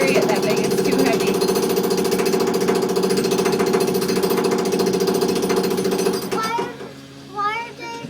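A jackhammer breaks up an old concrete sidewalk, hammering loud and close in a rapid continuous rattle for about six seconds before stopping, after which children's voices are heard talking.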